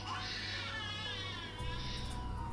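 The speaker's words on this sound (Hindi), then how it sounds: "उन्हें किसी नौजायदा बच्चे की रोने की आवाज आती है।" A newborn baby crying, a continuous wavering wail heard at moderate volume over a steady low hum.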